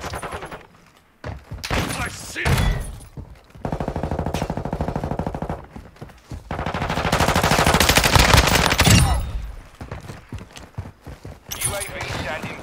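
Lachmann Sub submachine gun in Modern Warfare 2 firing rapid bursts amid game effects, with a player talking excitedly over the shots and longer sustained automatic fire in the middle.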